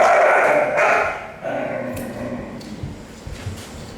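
A fearful dog at a groomer's gives loud agitated barks and yips up close, then breaks into lower growls and whimpering grumbles, with no talking.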